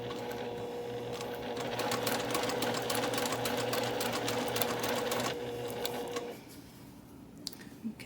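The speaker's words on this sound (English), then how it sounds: "We are going to need the sewing machine later though" A sewing machine stitches trim onto a cross stitch pillow, whirring in a fast, even mechanical patter for about six seconds before stopping, leaving a quiet room with a few small clicks.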